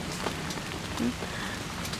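Rain falling on flowering mimosa and other potted plants, a steady even patter and hiss filling the whole stretch at moderate loudness, with no distinct voices.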